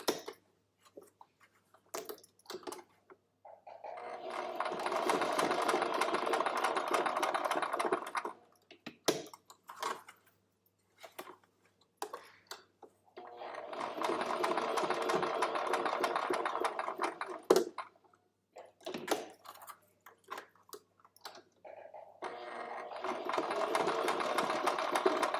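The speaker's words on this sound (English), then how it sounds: "now I'm just going to sew all the way around the outside one time" A sewing machine stitches all the way around the outside edge of a piece in three separate runs, with handling noises and quiet pauses between them.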